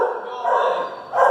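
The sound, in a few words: dogs barking at animal shelter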